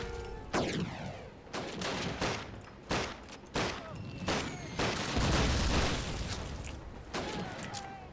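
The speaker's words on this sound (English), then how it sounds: "I don't know why I'm shooting with a pistol, but I sure am." Rapid pistol shots ring out in a Call of Duty battle, a string of sharp cracks arriving in irregular bursts alongside heavier background gunfire and a booming blast, loud and close with no talking.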